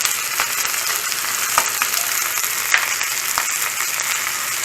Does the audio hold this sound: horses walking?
no